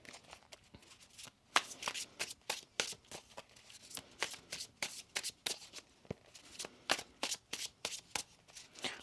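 Tarot cards being shuffled in quick riffling bursts, crisp papery flutters repeating every half second or so, close up with no talking.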